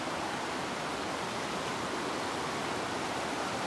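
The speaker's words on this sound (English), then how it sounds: "Cool creek." Steady, dense rush of a creek flowing beneath a bridge on an Appalachian Trail wilderness section in Tennessee-Virginia, a continuous broadband wash of water with no pauses, close and moderately loud throughout.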